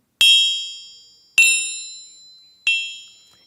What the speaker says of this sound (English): It's a bad gong. It doesn't even make the sound of a gong